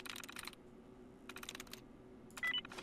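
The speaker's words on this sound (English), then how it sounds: "Smithy likes to do a lot of typing, does he" Computer keyboard typing in the video game Fallout: London, three short bursts of rapid clicking keys separated by quiet pauses, close and crisp against a faint electronic hum.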